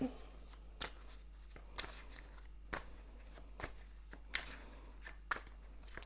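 Tarot cards being shuffled close by in repeated soft riffling bursts, roughly once a second, over a quiet background hum.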